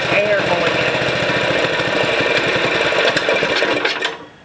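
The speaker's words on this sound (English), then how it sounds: "Now I got to choke it a little bit because it's got too much air going in." Small engine running close by while partly choked, giving a loud, rapid, rough pulsing chug that holds steady for about four seconds before dropping off.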